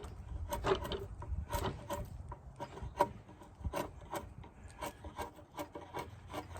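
A slightly dull chisel pares shavings off a rough-cut wood slab, producing continuous close rasping and scraping with frequent sharp bites and knocks throughout.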